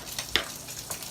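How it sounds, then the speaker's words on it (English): Chopped onions of mixed sizes frying in a pan, a soft steady sizzle with a few brief crackles, close by and fairly quiet, no one talking. "So there we got some onions going."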